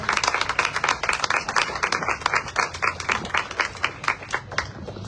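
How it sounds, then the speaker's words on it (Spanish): Scattered clapping from a modest audience at a book presentation, a few dozen distinct claps with uneven rhythm, fairly close and moderately loud, tapering slightly toward the end with no voices over it. "Un fuerte aplauso,"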